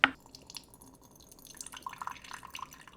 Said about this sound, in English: doing the initial rinse, which gets off any stuff we don't want